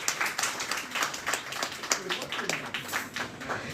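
Audience applause for Peter Alexievich at a Kyiv comedy show, a ragged stretch of steady clapping from a crowd, moderately loud and continuous, with some talk mixed in.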